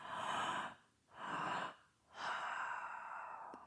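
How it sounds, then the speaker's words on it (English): Breathwork with two sharp, audible inhales followed by a longer exhale, three close breath bursts separated by brief silences, with no talk. "take 2 inhales for every exhale"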